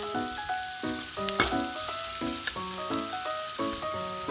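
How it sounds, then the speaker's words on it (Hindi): Onions and spices for a dal tadka fry in a pan, giving a steady close sizzle and crackle under a repeating tonal background, faint and without talk. "इन सभी को अच्छा गोल्डन ब्राउन होने तक अच्छे से पकाएंगे।"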